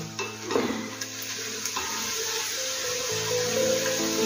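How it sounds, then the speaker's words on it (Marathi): Onion frying in oil for chicken biryani sizzles steadily and close, with a few stirring scrapes of a utensil against the pan near the start. "हा बघा, कांदा आता चांगला शिजत आला आहे, गोल्डन ब्राऊन होत आला आहे।"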